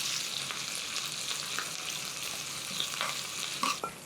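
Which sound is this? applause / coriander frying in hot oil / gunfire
coriander frying in hot oil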